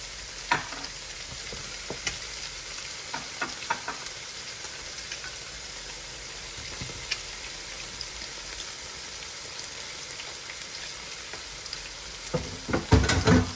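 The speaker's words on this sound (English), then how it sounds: "So I'm slowly adding in all my ingredients that I have. Mix them all together." Salmon pasta ingredients, including Scotch bonnet, are stirred in a sizzling pan: a steady frying hiss with scattered spoon clicks and scrapes, growing busier near the end, with no talking.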